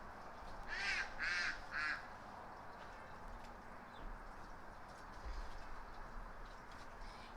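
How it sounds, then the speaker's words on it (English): Three quick loud squawking calls from ducks on a November deck near water, then faint outdoor ambience with occasional soft distant calls. "Don't mind the ducks yelling at me in the background because they think that they're going to get fed sometime soon"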